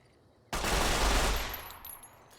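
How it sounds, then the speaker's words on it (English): A rapid-fire gun in the modded game Fallout: New Vegas fires a fast burst of shots that merge into a loud roar lasting about a second, then tails off into echoing decay. "That was 22 shots. It shoots ridiculously fast."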